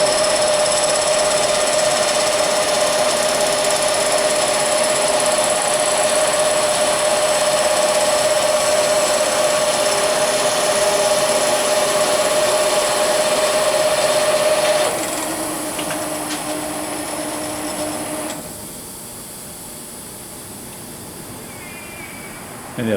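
A Barnes SP-1000R4 single-pass honing and bore finishing machine runs at 50 RPM with a loud, steady mechanical whine and tonal hum, shifting to a different pitch partway through, then dropping to a quieter drone near the end.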